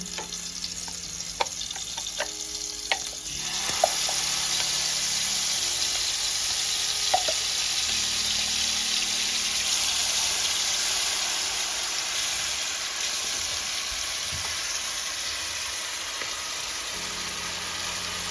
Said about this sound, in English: we're gonna saute our tomato and the garlic at least for 5 minutes